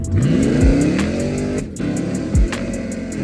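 Gold-coloured car revving hard, its engine note climbing and dropping in repeated loud bursts with a sharp crackle between revs, close by with no talking.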